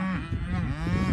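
Cattle being let out into a new pasture give a single close, loud, drawn-out moo that fills the short moment on its own.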